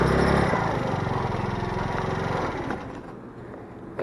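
A 50cc motorbike engine rides off-road across grass, a loud buzzing drone up close that eases back in intensity after a few seconds, with no talking.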